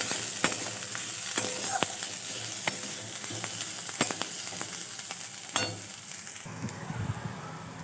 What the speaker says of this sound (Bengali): এবার চেরানো কুচো লঙ্কাগুলো দিয়ে দেবো।